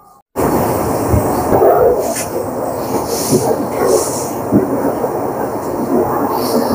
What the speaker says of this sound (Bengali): আমাদের train 12353 Howrah Lalkuan weekly superfast ছেড়ে দিল তার গন্তব্য লালকোয়ার উদ্দেশ্যে